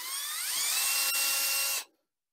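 A high-pitched electric drill on its slow setting, fitted with a 1.8-inch hole saw, cuts a hole for a sink soap dispenser, whining steadily for nearly two seconds, its tone rising slightly, then cuts off abruptly into silence.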